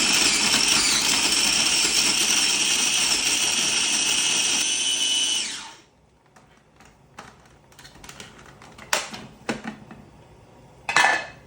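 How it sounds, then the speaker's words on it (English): A grinder whirs loudly and steadily as it pulverizes lemon peel for lemon pesto, then the motor winds down and stops, followed by scattered knocks and clatter as the machine is handled. "So now we're gonna grind up the lemon peel"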